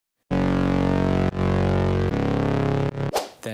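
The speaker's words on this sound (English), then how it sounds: "Then next, I've got my bass layer." Gritty, harmonically dense synth bass layer from an electronic drop, sustained loud notes that shift pitch twice before breaking into choppy cuts at the end, with no voice.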